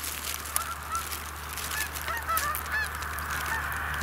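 A low flock of geese honks overhead, with many scattered, overlapping calls sounding fairly faint and distant above a steady background hum.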